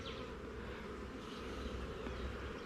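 Honey bees buzz in a bee yard, a dense steady hum of many insects close around, continuous throughout with no talking.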